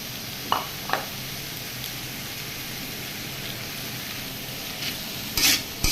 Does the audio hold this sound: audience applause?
no